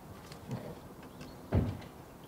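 A door opens at a front garden during a village carnival parade in Ottersum, with a faint creak early on and a louder thump of the door about halfway through, heard close against quiet background.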